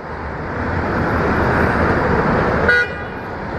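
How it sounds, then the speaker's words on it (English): A car horn sounds once down the road in stuck traffic: a brief, moderately distant toot over a loud, steady rumble of engines and road noise. "Horn down the way."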